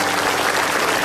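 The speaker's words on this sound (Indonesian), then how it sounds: "Tepuk tangan untuk Pak Marwoto." Studio audience at an Indonesian comedy talk show clapping steadily, a dense wash of applause with no voices over it.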